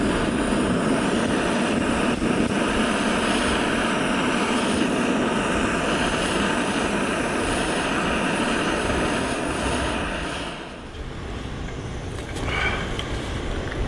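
A lit portable camping gas stove burner gives a loud, steady, close roaring hiss that holds evenly, then dips slightly near the end.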